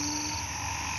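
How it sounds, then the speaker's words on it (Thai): Banded bullfrogs and other frogs call together from grassy undergrowth in a hospital garden after overnight rain, a dense continuous chorus of croaks and trills at steady, moderate volume. "พอร้องอยู่ตรง พวกอึ่งอ่างเขาก็จะซุกอยู่ตามพงหญ้าอะไรนี่แหละ"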